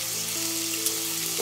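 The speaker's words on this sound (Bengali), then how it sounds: "কড়াই গরম হয়ে গেছে, এবার আলুটা দিয়ে দিই" Drained potatoes sizzling as they hit hot oil in a heated wok, a loud, even frying hiss with a faint hum beneath.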